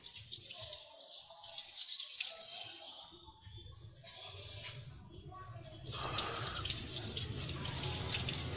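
Tap water runs while something is washed clean, a steady splashing stream that breaks off briefly and then resumes fuller and closer, with a few drips and squishy handling.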